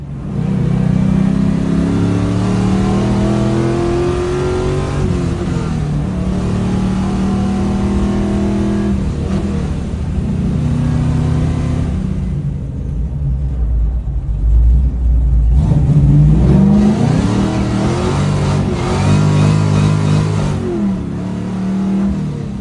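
A boosted car engine managed by a Holley Terminator X revs hard and loud up close, rising and falling in pitch through repeated pulls, with a deep rumbling dip midway before it climbs again.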